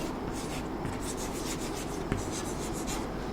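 Writing on a board during a classroom lesson, a continuous scratchy rubbing stroke with short rhythmic bursts, close and fairly loud with no talking over it.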